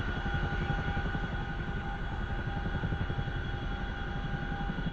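Helicopter engines spool up in the DCS World flight game, a loud continuous turbine whine and rotor drone that holds steady throughout with no talking.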